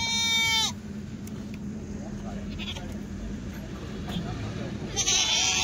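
Rajasthani billy goats bleat loudly at the start and again near the end, with a murmur of people and farmyard noise in between.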